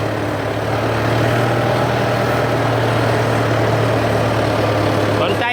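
A 2019 Kubota M7040 four-cylinder tractor idles with a steady, loud low rumble and constant hum, close by, unchanging over several seconds with no clear talk.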